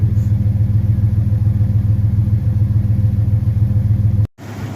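A Jeep Cherokee 4.0L inline-six engine idling after a cylinder head gasket replacement, with a steady low rumble and even pulsing, close and loud, briefly cutting out near the end before resuming.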